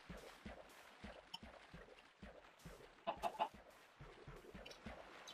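Chickens in the Minecraft video game cluck in short, repeated bursts, with a quick cluster of louder clucks partway through over a quiet background.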